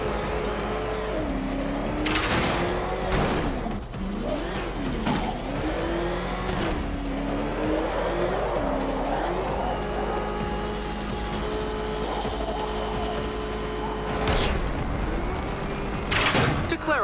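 The Batmobile drives through Batman: Arkham Knight with a steady engine roar and whine that rises and falls as it speeds up, along with mechanical clatter and a few sharp hits.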